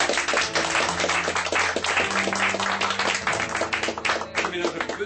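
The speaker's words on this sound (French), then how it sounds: "On peut applaudir notre ami Birgit." An audience claps for a participant at a magic show, dense and steady clapping lasting several seconds, with voices mixed in under it.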